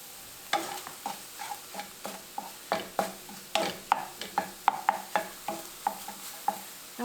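Seasoned food fries on medium heat in a pan while a utensil stirs it, giving a steady run of sharp scraping knocks roughly every third of a second over a soft sizzle close by.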